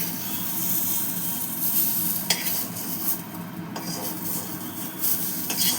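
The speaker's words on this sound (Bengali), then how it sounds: "এই আলুটাকে আমি ভেজে তুলে রাখবো, বেশ লাল লাল করে ভেজে নেবো।" Potatoes fry in mustard oil in a wok with a continuous, moderate sizzle, broken by a few sharp scrapes and clinks of a utensil stirring against the metal, with no voices.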